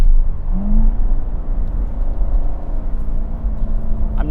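A Chevrolet Corvette C7 engine pulls along a tight on-ramp, a loud, steady low rumble and whir from inside the car, with a brief rising engine note early on and no talking.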